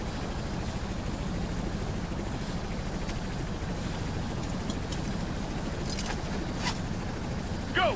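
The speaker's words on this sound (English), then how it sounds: "We've got choppers inbound to pick you up." Military helicopters approach in the Ghost Recon Future Soldier video game, a steady low rotor rumble and drone holding throughout at moderate level, with a few brief higher clicks near the end and no talk.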